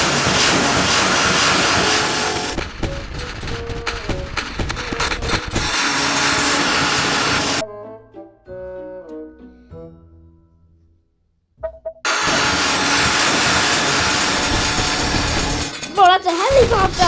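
A homemade blender in the video game Fruit Playground whirs loudly in harsh mechanical bursts, broken by a quieter stretch with soft tonal sounds before the grinding roar returns, while people talk.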